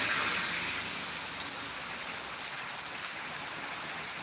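Rain falls steadily in Jambughoda out of season, a broad, uniform patter and hiss of drops with running water beneath, loudest at the start and then even.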